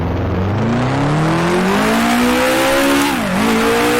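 Vintage 1966 Formula One race cars roar along the front straight at Monaco in Grand Prix Legends, a loud steady engine drone climbing in pitch with a brief dip near the end, with no talk.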